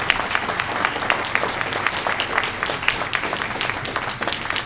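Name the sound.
applause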